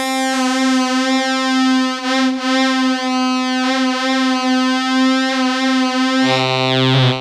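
A sustained, buzzy tone from a 1977 Yamaha CS-30 analog monosynth wavers in volume as its amplitude pulses, then shifts abruptly to a lower, harsher timbre near the end.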